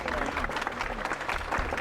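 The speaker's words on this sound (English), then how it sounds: "The applause instantly returned." A theater audience claps in a dense, continuous wash of applause that stays even throughout.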